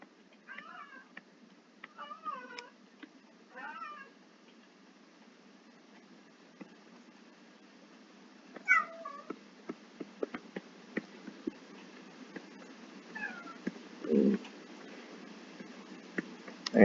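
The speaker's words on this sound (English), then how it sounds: "you maybe hear my cat in the background" Several short meows from a nearby cat, spaced irregularly, with faint ticking and small clicks in a quiet room.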